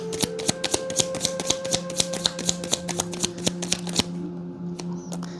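A deck of tarot cards is riffled and shuffled, producing a close, rapid run of crisp flicking snaps in an even rhythm that then trails off into lighter card handling.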